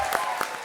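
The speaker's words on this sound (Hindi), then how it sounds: "ओ माय गॉड के लिए जोरदार तालियां।" Studio audience applause on a Hindi comedy show, a short burst of clapping with a few sharper claps standing out, fairly close and fairly loud.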